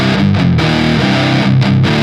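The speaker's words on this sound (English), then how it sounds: "So for this sound, we're going to be using another stock Cubase amp, and this one's called Diamond" Heavily distorted high-gain guitar through the Cubase Diamond amp head with the cabinet switched off, loud chugging chords that change pitch in short bursts with brief gaps.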